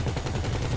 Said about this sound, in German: Das ist quasi die Siegeshymne unserer Gatling Guns.